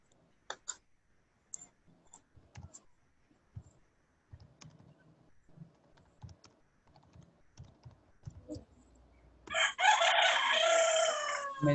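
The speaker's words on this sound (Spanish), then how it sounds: "Comenzaron esos gallos." Roosters crowing in the distance during an online physics class, a loud crowing burst near the end following faint clicking and scattered background sounds.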